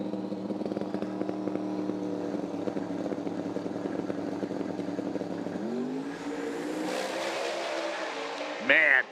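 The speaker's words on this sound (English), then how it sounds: "You could actually hear the tires gripping" A drag racing car in the true 10.5 class launches and tears down the strip at Bradenton Motorsports Park during the US Street Nationals, a loud, steady engine roar that climbs in pitch as it accelerates away.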